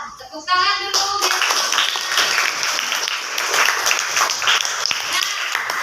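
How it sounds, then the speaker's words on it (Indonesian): Fifth-grade children in a classroom clap their hands together, a dense, loud burst of clapping that follows a short spoken exchange and continues steadily to the end. "Tepuk tangan dulu."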